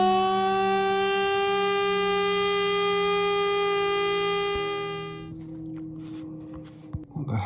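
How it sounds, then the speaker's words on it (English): A town-wide curfew siren in a remote Arctic town at night, a loud sustained wailing tone that holds steady for several seconds, then winds down and fades, leaving faint background noise and a few small knocks. "this siren's just gone off in the entire town"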